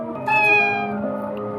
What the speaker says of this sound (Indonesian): biar aku bisa terus selamatin kucing-kucing terlantar kayak Oyen ini